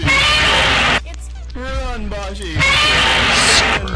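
A person lets out a loud scream, a harsh sustained yell near the start and again toward the end, with a short stretch of voiced sound between the bursts.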